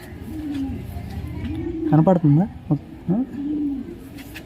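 A young pigeon caught in a trap coos in soft repeated low notes, close by, with someone speaking over and between the calls.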